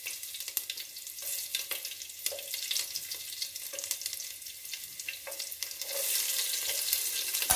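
Chopped onions fry in a pan for a special egg curry, a soft steady sizzle with occasional light stirring clicks, growing a little brighter and hissier toward the end.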